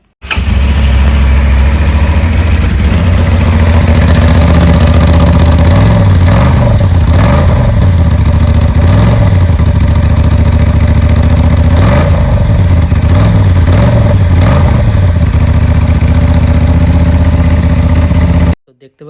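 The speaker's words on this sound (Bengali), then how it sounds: "আর এবার শোনাবো আপনাদের বাইকের অরিজিনাল সাউন্ড" A Honda Transalp 750 motorcycle engine idles loud and close, a steady throbbing rumble with a few short rises in revs, then cuts off abruptly at the end.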